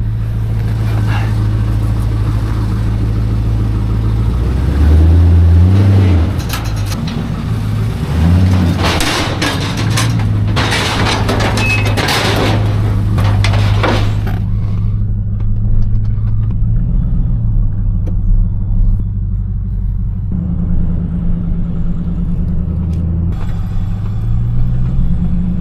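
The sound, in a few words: V8 car engine running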